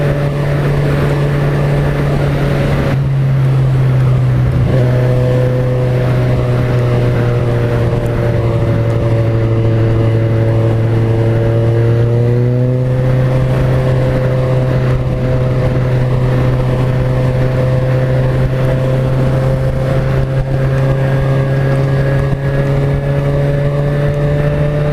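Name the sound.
Kawasaki Ninja 1000 motorcycle engine while riding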